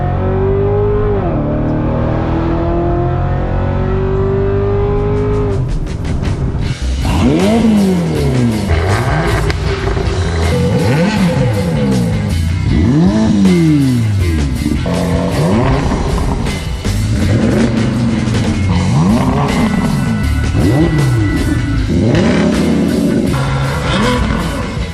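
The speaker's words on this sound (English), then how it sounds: "we're driving the race car today" Race car engine revving hard through repeated rising and falling gear changes, loud and close, with tire squeal in places, building from a lower idle-like tone into sustained aggressive acceleration.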